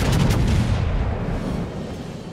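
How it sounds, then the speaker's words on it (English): The battleship Alabama fires its main guns in World of Warships: one heavy, close boom with a deep rumbling tail that slowly fades away. "Concentrate fire on the enemy warship."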